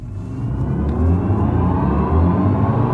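BMW i4 M50 electric car in launch mode accelerating hard from a standstill: a loud, steadily rising electric motor whine over road and tire rumble, with no talk.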